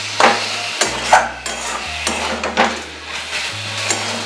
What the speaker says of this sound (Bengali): দেখুন আমার মূলোর শাক ভাজা হয়ে গেল